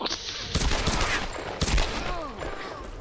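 Pistol shots crack out in the video game Tomb Raider, several sharp reports spaced irregularly amid game ambience and whooshing effects, fairly loud and close.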